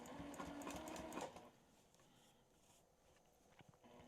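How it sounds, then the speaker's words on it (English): A sewing machine doing free-motion quilting on batting runs as a steady rapid mechanical whir for just over a second, then drops to quieter soft ticking and handling noise. "I start my stitching out on the batting."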